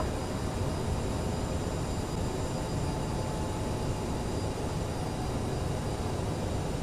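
A CRJ regional jet taking off in Microsoft Flight Simulator, a steady broadband engine roar holding constant and fairly loud throughout, with no talk.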